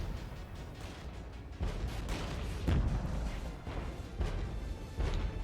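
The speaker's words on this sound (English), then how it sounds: "Wow, that's a lot of artillery" Artillery fire in the strategy video game Regiments: a continuous wash of distant rumbling booms, with several heavier thumps rising out of the din at irregular intervals.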